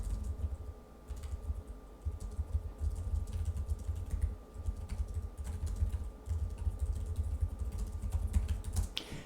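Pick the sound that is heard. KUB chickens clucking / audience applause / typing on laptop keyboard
typing on laptop keyboard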